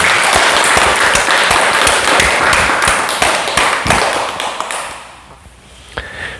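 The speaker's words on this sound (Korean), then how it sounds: "질문해 준 분들께 감사의 박수 보냅니다." An audience at a Korean Buddhist dharma talk breaks into loud, dense clapping, sustained for several seconds before thinning out and fading to near quiet, with a few last claps at the end.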